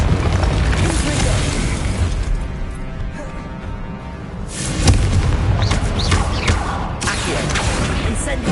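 Confringo fire blast spell cast in Hogwarts Legacy, dense booming blasts and crashing impacts that ease off briefly midway before a fresh burst, with voices mixed into the combat noise.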